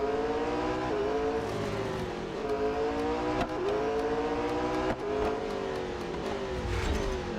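A McLaren 600LT races in Real Racing 3, its engine a steady, loud high-revving whine that rises and falls with gear shifts and brief dips, continuous throughout with no talk.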